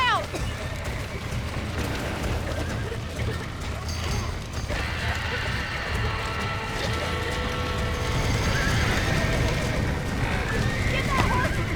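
Horses neigh and gallop with clip-clop hooves and creaking wagon mechanisms in the Red Dead Redemption video game, a busy layered scene with people talking over it throughout.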